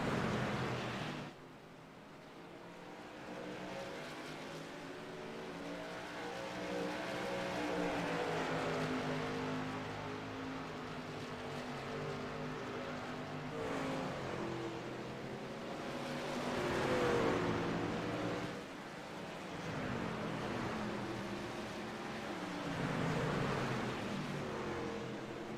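Racing trucks lap Richmond Raceway in a PC racing game, a steady layered engine drone with rising and falling revs as several trucks run together, continuous and fairly loud throughout with no talking.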